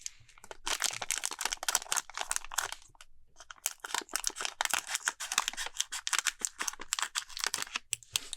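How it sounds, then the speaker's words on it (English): Dense crinkling and snipping as scissors cut into the foil wrapper of a Magic: The Gathering Edge of Eternities collector booster pack, close and crisp, in rapid bursts with a brief pause midway. "break out the scissors"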